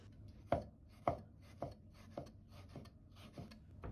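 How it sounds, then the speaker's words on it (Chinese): A knife slices pork foreleg meat into thin slices on a board, seven crisp chops at a steady rhythm that fade slightly toward the end, close and quiet with no talk. "再來把豬肉先改刀切成薄片"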